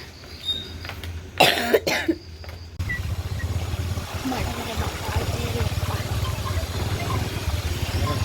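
A person coughs sharply a couple of times close up, followed by the steady rumble of an idling engine nearby.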